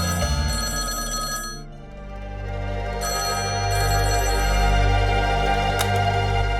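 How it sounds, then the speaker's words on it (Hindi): A telephone bell rings loudly in two long trilling bursts with a short pause between, over a steady musical hum. "ये फोन 2 बार बज के बंद हो जाता है"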